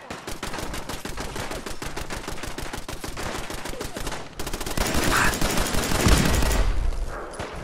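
Rapid, dense turret gunfire from Fallout 4, a steady rattling burst of shots that thickens into heavier, louder blasts toward the end, close and dominant with no talking.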